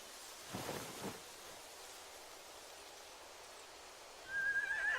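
A horse neighs in the video game The Walking Dead: The Final Season, a short, faint whinny early on over steady windy, surf-like ambience, with a thin tonal whine rising near the end.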